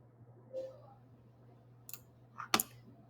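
A computer mouse clicks a few times while working in Photoshop, with faint, sharp ticks in a quiet room, the last pair crisper and close together, over a low electrical hum.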